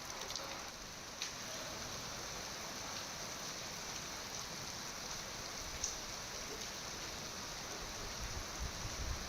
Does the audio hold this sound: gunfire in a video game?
no